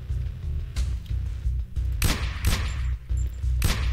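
Gunfire in the indie video game Be Gone Ghosts, several sharp bursts cracking over a steady, dense game soundtrack with a low rumbling bed throughout.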